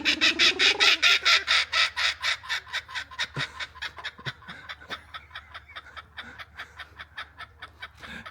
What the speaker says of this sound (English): He's just a little laughing guy. A laughing kuka bird.